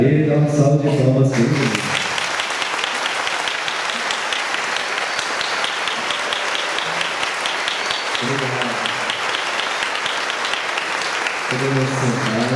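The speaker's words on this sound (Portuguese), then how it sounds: "ficar de pé e a Ele dá uma salva de palmas." A standing congregation at a Catholic healing and deliverance Mass breaks into a long, dense round of applause that fills the room steadily, while a voice speaks briefly at the start and again near the end.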